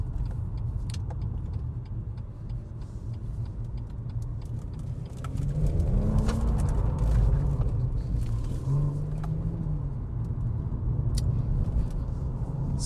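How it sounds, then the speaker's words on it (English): BMW M140i car passing by: a low engine rumble builds to a gentle peak midway, then fades back into steady background road noise. No voices. "Every time I go to start, a nice car comes past."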